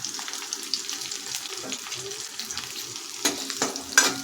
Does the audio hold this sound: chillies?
yes